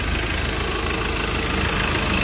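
A diesel engine in a 2012 Ford Ranger 4x4 with a manual gearbox idles close by, giving a steady, even rumble with a faint knocking texture throughout.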